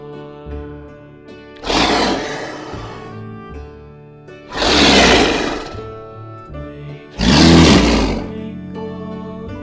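Three loud, rasping leopard roars, evenly spaced a few seconds apart, over a soft musical background.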